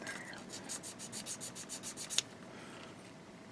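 Small plastic model kit part sanded by hand in quick, even back-and-forth rubbing strokes, close and soft, ending with a couple of sharp clicks.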